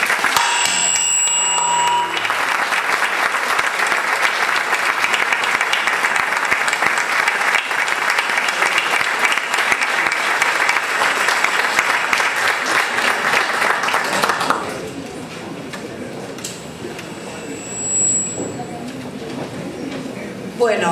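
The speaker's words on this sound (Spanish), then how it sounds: "merecido aplauso" An audience at an international health congress applauding loudly and steadily for about fifteen seconds in a large hall, then the clapping fades into a quieter room murmur.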